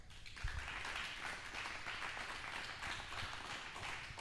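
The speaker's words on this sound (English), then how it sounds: "let's give them a big round of applause" An audience applauds in a steady, dense wash of clapping that stays strong for about four seconds after a brief quieter start.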